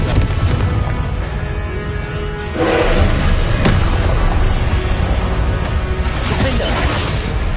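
Fiery Confringo explosion spells in Hogwarts Legacy, played on PS5: loud, dense booming blasts and whooshing bursts layered over continuous battle noise, with sharper impacts punching through near the middle.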